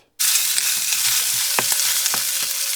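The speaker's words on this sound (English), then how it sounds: "I'm just frying a little bit of vegan bacon" Steady, close sizzling of vegan bacon frying in a pan, a continuous crackling hiss with a few small pops and stirring clatters.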